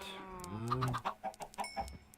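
Minecraft chickens clucking in a farm pen, several short close clucks and squawks in a quick irregular run, loud and alone.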